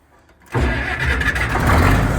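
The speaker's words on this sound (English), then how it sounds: "let's get the tractor. We're gonna use our good old trusty 970 Case Acre King." After a brief quiet moment, the heavy diesel engine of a Case 970 Agri King tractor cranks and catches, then settles into a loud, rough, rumbling idle close by.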